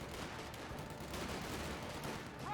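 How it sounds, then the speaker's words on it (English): Distant, muffled MG42 machine-gun fire and battle noise from the World War II strategy game Company of Heroes 2, a faint, steady wash of overlapping shots with no clear gaps across the short stretch. "Rational squad getting hit by the MG42"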